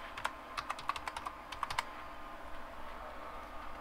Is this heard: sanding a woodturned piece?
no